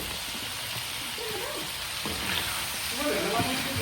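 String beans and chayote frying in a pan for pinakbet, a steady soft sizzle with faint stirring scrapes, heard up close at moderate volume.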